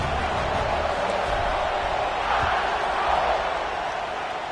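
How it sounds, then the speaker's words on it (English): Steady crowd roar fills a football stadium after a score as the teams line up for the kickoff, a broad continuous buzz with no clear break. "this crowd is buzzing after that last score"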